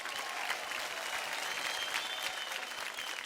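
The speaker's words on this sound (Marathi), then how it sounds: "एकदा जोरदार टाळ्या होऊन जाऊ द्या" A television dance-competition audience claps in a steady, dense burst of applause, fairly distant and even throughout.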